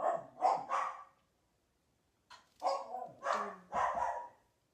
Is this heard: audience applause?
no